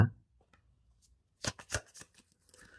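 A deck of tarot cards is shuffled and drawn, with a few crisp riffling, flicking bursts close by, followed by a soft card slide.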